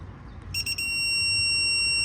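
A torque wrench gives a short burst of electronic beeps, then one constant high-pitched tone while maxed out at target torque during a mini split installation, loud and alone over low background noise.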